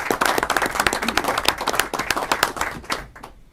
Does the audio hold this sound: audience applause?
yes